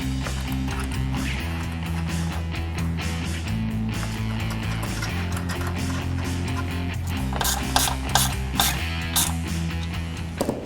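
A ratchet clicks in rapid bursts tightening factory bolts on a Ford F-150 bumper, heard over a steady low tonal background hum.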